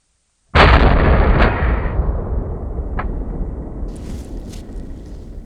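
A single enormous blast from a .50 caliber rifle fired outdoors, an abrupt loud crack followed by a long rolling boom that slowly fades over several seconds.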